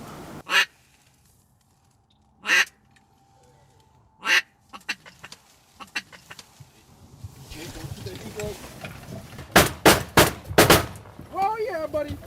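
Redhead ducks call on Little Bay De Noc during a duck hunt, with several loud sharp bangs early on and a cluster of nasal quacking calls nearby toward the end.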